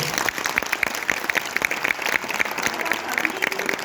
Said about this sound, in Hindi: तो एक बार अपने देश के लिए एक बार जोरदार तालियां हो जाए।